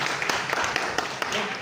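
An audience applauds songwriter Arsya at a press event: a dense, steady patter of many hands clapping that fills the whole stretch, with a few sharper claps standing out.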